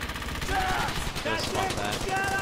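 Sustained machine gun fire rattles through a World War II battle in Brothers in Arms: Hell's Highway, dense and continuous, with voices calling out faintly amid the shooting.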